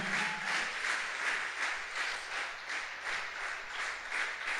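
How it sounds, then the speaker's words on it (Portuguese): A church congregation claps in sustained applause, a dense, even wash of hands with gentle swells, moderately distant and without talking. "Você que crê e ama a nossa igreja, aplauda o Senhor Jesus"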